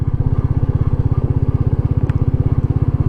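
A Royal Enfield Meteor 350 motorcycle engine chugs steadily in second gear on a small road, a loud, even low thump repeating rapidly and close by, with no talk.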